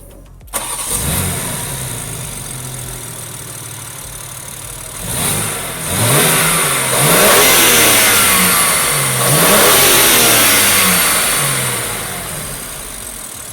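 A 2021 BMW M3 Competition fires up with a sharp start-up bark, settles into a loud idle, then revs up and down in several rising and falling sweeps, close and alone.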